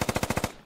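A rapid automatic burst of about seven gunshots from the military shooter game Squad. The shots come in an even rhythm, loud and close, then fade into a short echoing tail.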